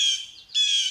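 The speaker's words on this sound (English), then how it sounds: "My own personal bird is making a lot of nasal sounds." A pet bird kept indoors gives two loud, nasal, buzzy squawks with a short gap between them, close to the listener and heard alone.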